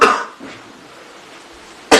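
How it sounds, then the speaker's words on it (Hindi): A person with a cough and fever that have lasted for days coughs, in a World TB Day medical college skit: a harsh burst at the start, a softer one after, then a sharp cough at the end. "कितने दिनों से खांसी बुखार बढ़ता ही जा रहा है"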